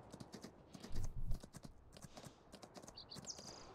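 Horse hooves clip-clopping in the farming video game Farming Simulator 19: a quick, uneven run of light taps with a louder, heavier burst near the middle and a brief higher tone toward the end.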